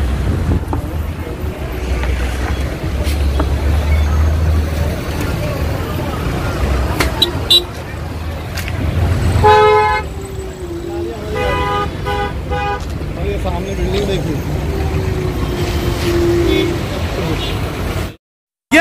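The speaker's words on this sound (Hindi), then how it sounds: "मुंबई की सड़कों पे हम चल रहे हैं अभी, ट्रैफिक है अभी, ट्रैफिक।" Busy street traffic in Mumbai, with rumbling engines and wind buffeting the microphone, broken by several short repeated car horn toots in the middle stretch; someone talks over the scene throughout.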